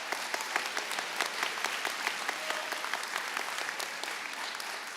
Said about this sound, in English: Please stand as your name is read, and we'll give some applause at the end.